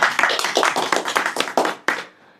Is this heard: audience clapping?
yes